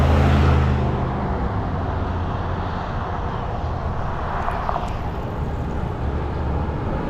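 Cars rush past on the Pacific Coast Highway, a loud, broad roar of passing traffic that swells at the start and holds steady throughout, with no voices.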